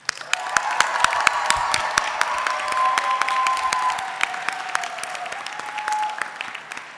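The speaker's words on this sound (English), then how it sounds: "let's give a round of applause to the delegates today" Delegates at a Model UN conference closing ceremony receive a full round of applause from the crowd, dense clapping that swells then settles, with crisp close claps standing out and faint cheering underneath.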